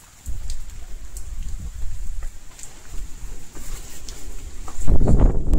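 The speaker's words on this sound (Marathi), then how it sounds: "मगाशी धुकं होतं आणि आता पाऊस पडतोय" Steady rain patters throughout, with occasional drops, growing heavier and louder toward the end.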